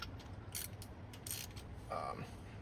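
A deep well or spark plug socket on a ratchet wrench loosens a car spark plug. The ratchet gives faint, quick clicks in short bursts over a low hum, with no voices.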